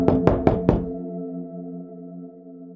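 Four quick, firm knocks on a door ring out in an even rhythm, each one sharp and close, followed by a lingering tonal hum as the knocking stops.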